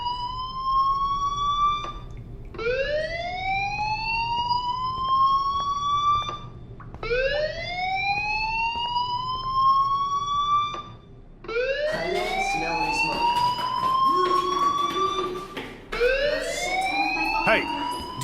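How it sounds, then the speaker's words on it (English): A school fire alarm in the video game Life is Strange wails in repeated rising electronic sweeps, four loud bursts separated by short pauses, the later ones harsher and overlapping with faint background noise. "Hey, do you hear that fire alarm?"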